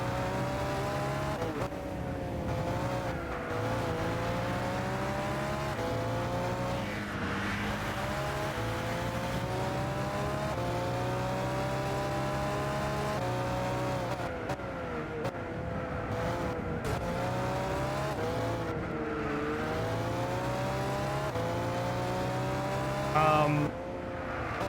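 Race car engine in Gran Turismo 6 roars continuously through gear changes, pitch climbing and dropping with upshifts and braking, loud and steady throughout, with a voice occasionally heard faintly under it.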